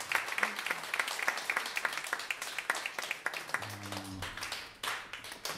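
An audience applauds after a jazz set by a live band in a club, dense scattered clapping that thins toward the end as a low hum enters underneath.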